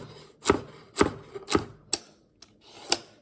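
Onions being chopped with a knife for a traditional Irish Guinness stew, several crisp separate strikes on a cutting board spaced about half a second apart, close and clear with no talk.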